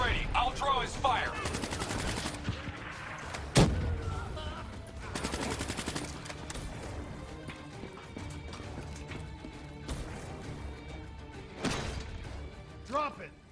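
Gunfire in Call of Duty Black Ops 3 comes as rapid automatic bursts, one sharp loud shot, and scattered rounds set against a combat soundscape, while voices speak in between.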